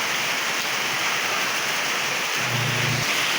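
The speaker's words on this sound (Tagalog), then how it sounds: "Mahina lang yung ulan." Steady rain falls on a home during a light shower, broadband hiss filling the background, with a leaking roof dripping nearby; a brief low hum rises near the end.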